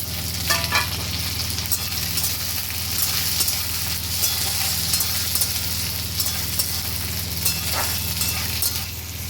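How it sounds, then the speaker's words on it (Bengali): Mixed vegetables with green peas fry in oil in a wok, a continuous loud sizzle with occasional clinks and scraping stirs over a low steady hum. "এই সবজিগুলো বেশ খানিকটা ভাজা হয়ে গেছে।"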